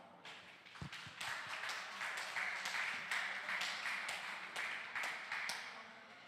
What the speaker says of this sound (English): we should give everybody who was involved in this event, in planning for it and making it happen in such a short time, a big round of applause